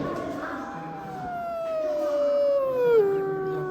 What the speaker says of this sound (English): You've just heard the howling of a single coyote.